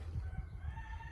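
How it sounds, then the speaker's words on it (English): A rooster and chickens in the woods, heard as a brief, drawn-out crowing tone with faint clucking over a rumbling outdoor background. "Woods roosters. Chickens."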